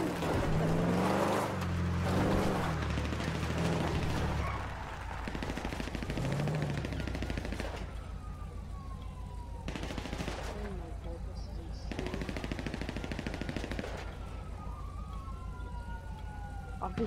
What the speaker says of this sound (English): Oh my god, they're in a gunfight!